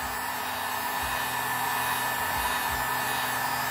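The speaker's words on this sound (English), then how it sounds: "Make sure to set your heat gun down where it's not going to burn something up" A heat gun runs with a constant, close, breathy whoosh like a hair dryer while scorching wood drawn on with a scorch marker pen, with only faint low bumps under the steady airflow.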